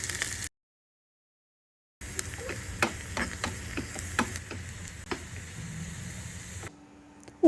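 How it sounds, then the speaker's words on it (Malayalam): Thinly sliced shallots and curry leaves fry in hot coconut oil for a Kerala prawn curry, a close steady sizzle with scattered crackles and ticks, broken by a short silent gap near the start. "വെളിച്ചെണ്ണ ചൂടാവുമ്പോൾ 5 ചെറിയുള്ളി കനം കുറച്ചരിഞ്ഞത് പാനിലേക്ക് ഇട്ട് കൊടുക്കാം."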